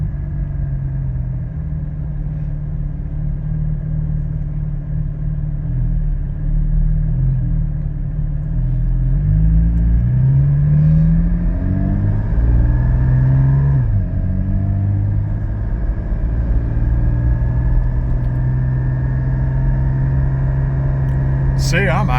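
A car fitted with a Soul Performance V2 exhaust, with the sound symposer deleted, cruises through traffic, its steady low exhaust rumble rising and falling gently with light throttle while a person talks over it.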